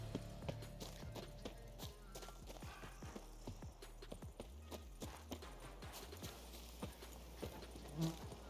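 Horse hooves clip-clop steadily in The Witcher 3, a regular rhythmic trot of quiet thuds, fairly faint and alone.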